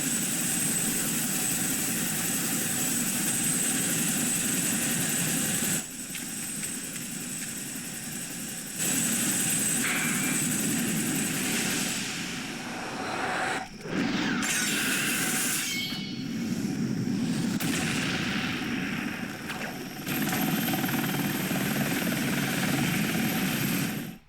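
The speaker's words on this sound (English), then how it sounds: "And we're doing battle with the helicopter once more." Helicopter in the PS2 game Shinobi, a continuous droning rotor and engine roar with brief dips and game impacts breaking in, steady and fairly loud throughout.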